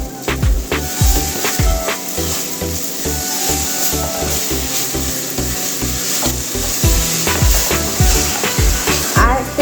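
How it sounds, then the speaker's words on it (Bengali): Banskathi rice fried in a pan with salt, stirred briskly: continuous sizzling with repeated low knocks and scrapes of a spatula against the pan, close and fairly loud, no talking. "একটু নেড়ে নেব।"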